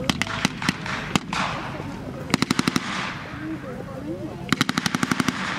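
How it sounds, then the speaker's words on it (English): MG42 machine guns fire in sharp rapid bursts at a 1940s WWII battle re-enactment, with several distinct rattling volleys spread between pauses, carried over an outdoor crowd murmur and a commentator talking. "The MG42s are in position."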